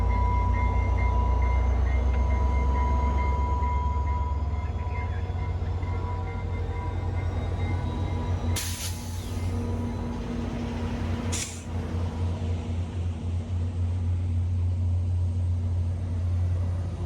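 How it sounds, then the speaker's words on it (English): A VIA Rail passenger train, number 26, departing Dorval station in Montreal: a steady low diesel engine drone with tonal hum, joined by two brief hissing air bursts near the end. "Once all passengers have boarded, train 26 gets the okay to go out of Dorval."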